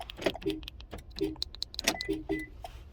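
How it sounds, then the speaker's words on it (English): A reprogrammed smart key remote is pressed beside a car, bringing a rapid series of close, crisp clicks and light metallic rattles from the keys and locks. "And our remote is now working."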